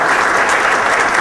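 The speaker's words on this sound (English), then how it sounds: "Give them a round of applause." A brief burst of dense audience applause at a school event luncheon, steady and loud from a room full of clapping hands.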